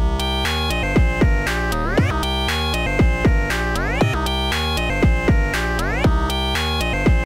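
A bright, punchy Pocket Operator synthesizer sequence repeats in quick rhythmic notes, with sudden octave-up pitch jumps and swooping punch-in effects cutting in over the pattern, loud and close.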